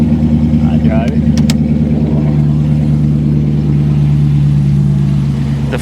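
A RAM 3500 pickup's Cummins diesel engine runs steadily at a loud, low idle with an even, throbbing hum, broken by a few brief clicks near the start.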